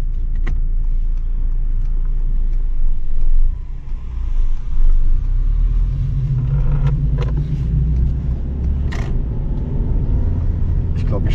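Fiat Punto moped car with 25 km/h registration driving, a steady low engine rumble inside the cabin with a change in tone as a gear is shifted too early, a few small clicks and creaks on top.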